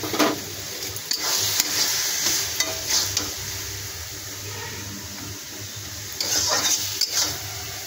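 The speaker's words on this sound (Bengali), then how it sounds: "আলু, পালং শাক, তারপরে হলো মটরশুঁটি, এগুলো সব কিছু দিয়ে, বেগুন টেগুন সব দিয়ে একটা ঘন্ট রান্না করছি।" A thick vegetable curry of potato, spinach, peas and eggplant sizzles in a pan as it is stirred, with a continuous frying hiss and repeated scraping and clattering of the utensil, up close and without talk.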